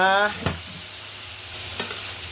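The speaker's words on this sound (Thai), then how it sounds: "ผัดให้ทั่วทั่วก่อน สุกก่อนนะ" Chicken offal and ginger stir-frying in a pan, a soft steady sizzle with two sharp scraping clacks of a utensil against the pan, after a brief tonal sound at the start.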